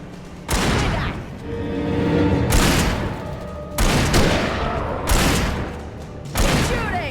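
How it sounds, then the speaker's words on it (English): Loud gunfire bursts from the Alan Wake Remastered video game, several heavy volleys and booms repeating close together over a sustained rumbling bed, with no voices. "Keep shooting!"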